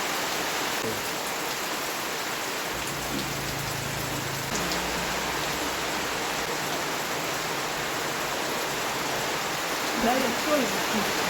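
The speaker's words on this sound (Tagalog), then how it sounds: "Umulan na." Steady rain falls on a vegetable garden, a constant dense hiss throughout with no break, faint voices underneath.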